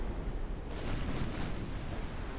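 Torpedo explosions strike a warship in the Ultimate Admiral Dreadnoughts naval game, a broad rumbling roar that swells after a short start and sustains, loud and noisy throughout.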